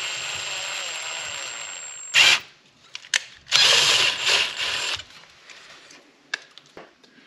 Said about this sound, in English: we've drilled a 1/4 inch hole right here